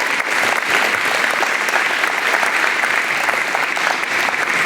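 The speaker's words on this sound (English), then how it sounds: "Let's give them a round of applause today as well." Audience applause for combat veterans at an outdoor Freedom Fest rally in the Inland Northwest, a steady dense clapping from a large crowd sustained evenly throughout at full loudness.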